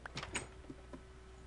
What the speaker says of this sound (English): Just heard a door.